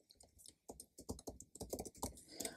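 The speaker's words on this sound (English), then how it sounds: "type in my password real fast" Fingers type a password on a computer keyboard in a quick, uneven burst of crisp keystrokes, close and fairly quiet, with no voices.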